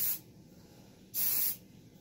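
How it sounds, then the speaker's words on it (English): Two short bursts of Sexy Hair Play Dirty dry wax spray hiss from an aerosol can onto hair, close and fairly loud, with a pause between them. "It is a dry wax spray, the best stuff you guys can get."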